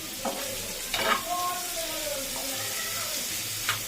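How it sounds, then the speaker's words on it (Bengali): Onions softening in a pan over a lowered flame, a gentle continuous sizzle with a few clinks and scrapes of stirring, close and moderately loud, no talking. "এই একটুখানি নেড়ে নিচ্ছি, আঁচটা কমিয়ে দিয়েছিলাম"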